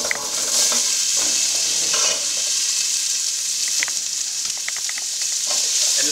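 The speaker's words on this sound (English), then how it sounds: "And just let this saute for a little bit." Onions, celery and carrots sizzle steadily in leftover beef oil and juice, a bright continuous frying hiss with occasional stirring clicks and scrapes of a utensil in the pan.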